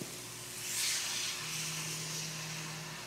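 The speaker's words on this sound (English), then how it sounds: "hear that sizzle?" Thin steak searing in a hot, unoiled pan, giving a soft, steady hiss close by that swells briefly then settles into a continuous low sizzle over a faint electrical hum.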